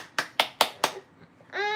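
A child and mother clap their hands together in four sharp, evenly spaced claps, close and crisp. A voice then begins right after.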